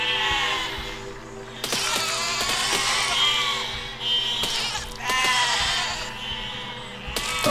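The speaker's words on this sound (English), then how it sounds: "I can't believe how long it's taking me just to wipe out some sheep" Sheep in the video game Besiege bleat repeatedly, several loud, wavering cries following one another with short gaps between, close and clear over a low steady game hum.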